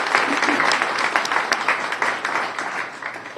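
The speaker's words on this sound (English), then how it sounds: "let's give them a round of applause" An audience at a BPS Sunday program launch claps in sustained applause, a dense steady patter of many hands heard from within the room, fading slightly toward the end.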